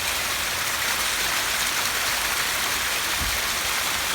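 Water cascading down a multi-tier backyard waterfall set among marsh rock placements, a steady close rushing wash with no talk over it.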